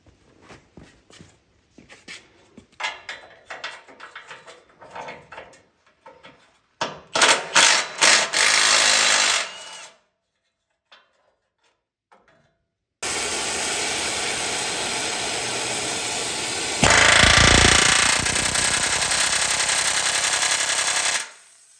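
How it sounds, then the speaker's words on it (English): Bolt removal and hot riveting on a K10 truck frame cross member in a workshop, with bursts of rattling air-tool hammering, brief pauses and long loud sustained pneumatic noise near the mic. "I'm going to take the bolt out and put a rivet in it."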